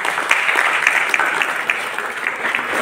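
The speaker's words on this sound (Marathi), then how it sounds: "टाळ्या." An audience at an NSS special camp event on women's empowerment in Chandrapur applauds steadily, a dense wash of many hands clapping at an even level with no voices over it.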